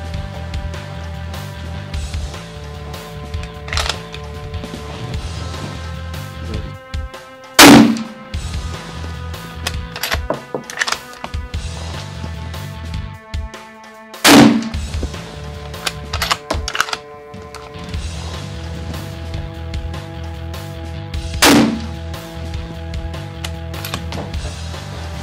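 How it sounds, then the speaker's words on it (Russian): An ATA Turqua .308 rifle fitted with a thermal scope fires three sharp, loud shots spaced several seconds apart at a 100-metre range, each a single crack standing out from steady background noise. "Итак, мы произвели три выстрела на 100 метров."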